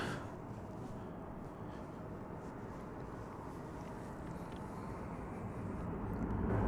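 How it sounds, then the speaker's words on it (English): An Airbus A321 airliner at DFW Airport, heard as a steady, broad jet engine roar at moderate distance that slowly swells louder toward the end. "Another one of the ever popular Airbus A321s"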